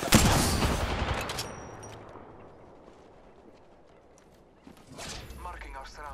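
Gunfire in the video game Apex Legends: a loud burst of shots up front that decays into a rumbling tail, then another volley near the end, with a voice talking over parts of it.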